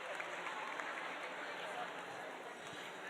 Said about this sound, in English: Number 65, give him a big round of applause.